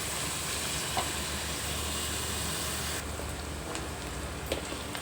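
Masala for gongura chicken is ground with a constant whirring, rumbling drone that shifts to a slightly lighter tone partway through, with a few faint clicks and no speech.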